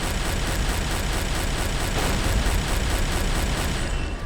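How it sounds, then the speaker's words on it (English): A submarine deck gun fires in Silent Hunter 3, heard as a steady, loud rumbling wash of noise with repeated dull blasts throughout. "Deck gun crew, open up."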